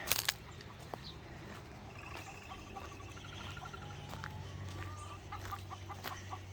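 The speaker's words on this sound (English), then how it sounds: "Three chooks in here that need a bit of love and attention because they have got sore feet." Backyard chickens cluck softly in scattered bursts over a steady low background hum, with a few louder clicks at the start.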